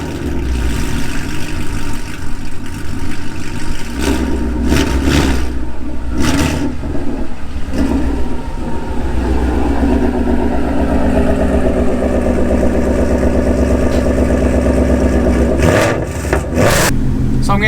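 2015 Ford Mustang with a loud aftermarket exhaust, revving repeatedly from a deep rumbling idle with sharp throttle blips and sustained loud roars, close and continuous over about eighteen seconds with no talk.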